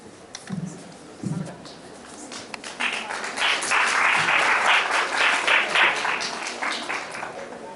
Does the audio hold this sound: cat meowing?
no